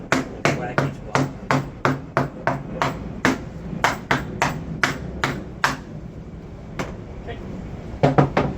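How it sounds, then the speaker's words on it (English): Quick, hard knocks of a mallet on wooden blocks come in a fast run, pause briefly, then resume with a few more strikes. "We're gonna take a hammer or mallet and just gonna"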